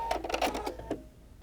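A Pfaff Creative Performance sewing machine runs a decorative stitch in a quick burst of rapid mechanical clatter, close and soft, then stops.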